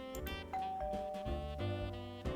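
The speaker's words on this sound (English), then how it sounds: "I didn't realize this place had a doorbell." A two-tone doorbell chime rings inside a building, its ding-dong notes sounding clearly over quiet background noise with no one talking.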